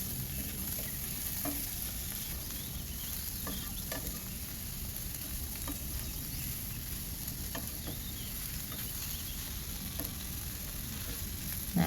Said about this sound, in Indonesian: Kemudian kita masukkan bakso dan tumis kembali.